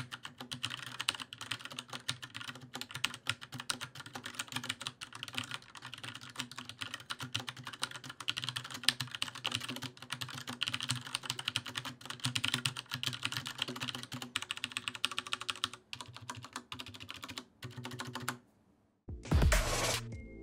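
Steady, brisk typing on a Kinesis Freestyle Edge split mechanical keyboard with Cherry MX Brown switches and ABS keycaps, a continuous close patter of soft tactile clicks for about eighteen seconds before stopping, followed by a brief louder handling noise.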